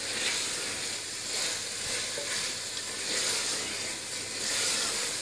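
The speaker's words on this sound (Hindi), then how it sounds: "पालक डालकर मज़ीद से 5 मिनट के लिए भून लेंगे ताकि सारा मसाला अच्छे तरीके से पालक के अंदर चला जाए।" Spinach and mutton fry in masala in a pan, giving a steady, close sizzle and hiss with soft stirring, continuous throughout and without talk.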